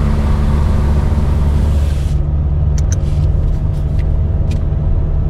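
Exhaust of a cheap old car while driving, a loud steady low rumble filling the space, with a few faint clicks and rattles over it and no talking.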